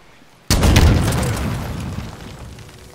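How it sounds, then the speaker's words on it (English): A rocket launcher round explodes in the Halo Infinite campaign, a single loud, deep boom that hits suddenly after a quiet moment and then rumbles and fades slowly over a couple of seconds. "I want to see if I can blow up a Marine with a rocket launcher."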